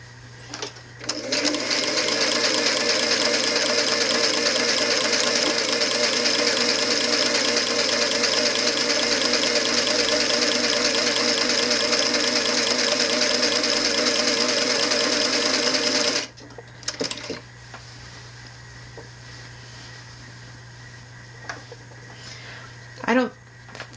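A sewing machine stitches a knit fabric hem with twin needles, a loud, fast, even mechanical whir running steadily for about fifteen seconds, then stopping, followed by a few faint clicks and handling noises.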